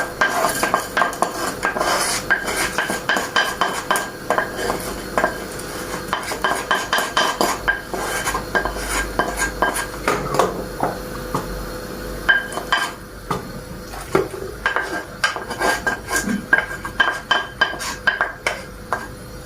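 Vermicelli is added to a pot and stirred: metal utensils scrape and clink against the pot in a busy, irregular rhythm, with light rattling and stirring sounds continuing throughout.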